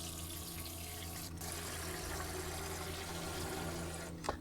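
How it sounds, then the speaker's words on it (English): Water running steadily from a galley freshwater hand sprayer into glass jars, a continuous close hiss and splash with a brief louder gush near the end. "So I'm just going to fill the water up to that point."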